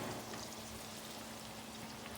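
Garlic frying in a cooking pot with onion, green pepper and chives, a soft, steady sizzle and crackle heard faintly at close range, no voices.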